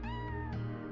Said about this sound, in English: There's another kitty.